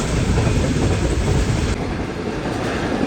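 Shah Hussain Express passenger train moving on rails near Shujabad railway station in Pakistan, a loud steady roar with rumbling wheels and faint rhythmic clatter, continuous throughout.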